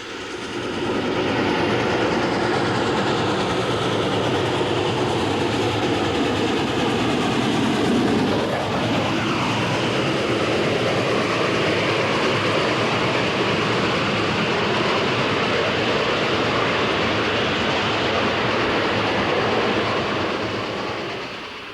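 A 1989 Steamtown excursion train rolls steadily along level track above Clarks Summit with a loud continuous rumble and rattle of wagons, close by, swelling slightly midway and fading at the end.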